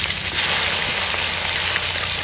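Cauliflower and potatoes fry together in a pan with a loud, close, dense sizzle that holds steady for the whole short stretch.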